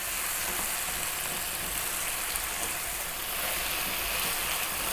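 Tomato paste frying in oil for a Middle Eastern beef and okra stew, a dense, even sizzle that runs without a break, close and steady.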